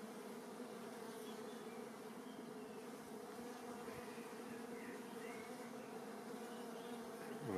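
Honeybees hum in an opened hive colony during a queen check, a faint, dense, continuous buzz with a low steady drone and no voices.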